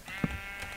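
One brief sheep bleat from a video game, faint and quick over a low steady background.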